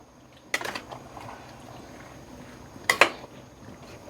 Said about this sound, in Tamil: இது நம்ம கை விடாமல் கிண்டிகிட்டே இருக்கணும்